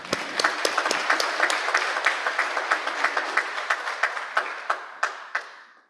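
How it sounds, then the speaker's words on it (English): Audience at a Rotary Club meeting in Gainesville gives a final round of applause, with steady clapping from a roomful of people that starts sharply, holds evenly for several seconds and thins out toward the end. "I would ask for one final round of applause for all of you."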